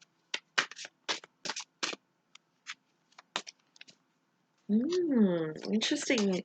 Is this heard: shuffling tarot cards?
yes